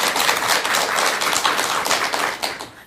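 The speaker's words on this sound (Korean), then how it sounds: "우리 혜원 선생님께 뜨거운 박수 한번 부탁드리겠습니다" Enthusiastic audience applause in a Korean television studio for a Buddhist nun, a steady, dense wash of clapping that holds then tails off, with no voices over it.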